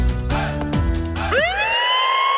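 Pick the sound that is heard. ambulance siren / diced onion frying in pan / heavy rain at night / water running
ambulance siren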